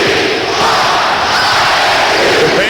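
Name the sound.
Bradley crowd chanting "We want ISU"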